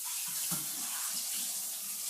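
Tap water runs steadily into a cup being rinsed out in a kitchen sink, a soft continuous splashing with a few small knocks of the cup, fairly quiet and with no talking.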